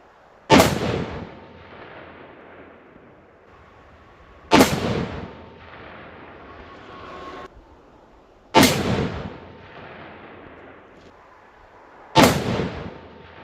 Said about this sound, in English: and then we'll shoot 3 more shots.